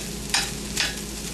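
Fried rice with egg sizzles steadily in a hot pan while being stir-fried, with two brief louder scrapes of the utensil against the pan.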